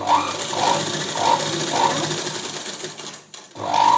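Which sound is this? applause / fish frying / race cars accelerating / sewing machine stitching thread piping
sewing machine stitching thread piping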